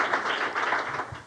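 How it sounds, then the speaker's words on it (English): Audience applause at the closing of a health equity summit, a steady wash of clapping from a room full of people lasting about a second, fairly loud and continuous with no talk. "Can you give them a round of applause?"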